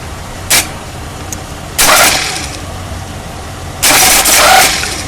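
A bench-tested car starter motor, jumped with cables, whirs in three short bursts, the last one longer, each spin quickly rising and cutting off.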